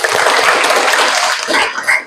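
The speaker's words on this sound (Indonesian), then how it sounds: "Kayak tepuk tangan buat kalian." A school class bursts into applause, a loud, dense, continuous patter of many hands clapping close by, tapering slightly at the end.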